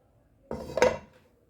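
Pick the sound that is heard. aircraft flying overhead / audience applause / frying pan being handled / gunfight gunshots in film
frying pan being handled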